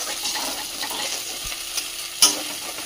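Egg tadka sizzles and fries in a pan of masala, a steady close crackle with a couple of sharp stirring clinks.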